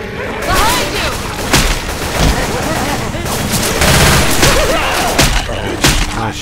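Dense, loud gunfire in Left 4 Dead 2 crackles almost nonstop, rapid automatic bursts mixed with booming shots and thuds, with voices calling out over the shooting throughout.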